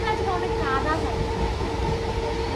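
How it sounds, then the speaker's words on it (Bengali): A train running at midnight near Kolkata gives off a continuous heavy rumble with a steady tonal whine, loud and close throughout, with voices faintly present. "কারণ ট্রেন মাঝরাত যাচ্ছে"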